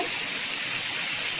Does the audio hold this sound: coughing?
no